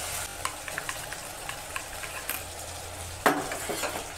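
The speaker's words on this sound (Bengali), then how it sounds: "পোস্তটা আমি আগে একটু ভেজে নেব" Poppy seeds toast in a pan for a Bengali rohu fish dish with mustard and poppy paste, giving light scattered ticks and stirring scrapes over a low hum, with a sharper clatter near the end.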